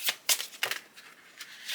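Tarot cards riffle and flap in a few quick, crisp bursts, close by and fairly loud, with short pauses between the shuffles.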